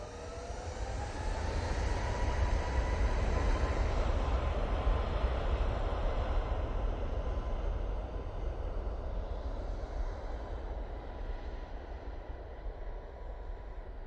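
A Loganair ATR turboprop arriving from the Isle of Man drones steadily at an airport, a broad sustained engine roar that swells early and holds at moderate distance before easing slightly.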